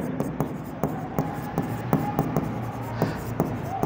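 A pen scratches across paper in quick, regular strokes, closely miked and fairly soft, over a faint room background with no talk.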